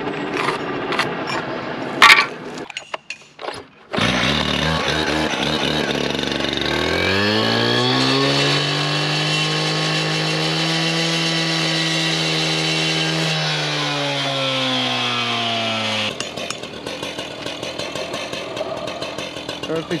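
A power saw cuts through a piece of stone veneer during a step installation: a short start and rev, then a loud, steady grinding whine held for about twelve seconds that shifts in pitch as the blade bites, before winding down.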